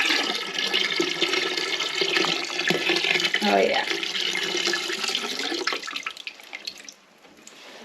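Dirty water from the tank of a Hoover Powerdash Pet carpet cleaner pours out of a quick-pour spout in a steady rushing stream, close and loud, then tapers off near the end. A person speaks briefly.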